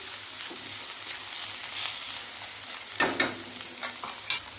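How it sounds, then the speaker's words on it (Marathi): Onion paste frying in a pan for a paneer dish, a soft continuous sizzle with louder spoon scrapes and stirring bursts near the end, no voices. "अर्धा मिनिट ही कांद्याची पेस्ट भाजून घ्यायची"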